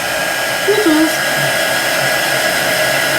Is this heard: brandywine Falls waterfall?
no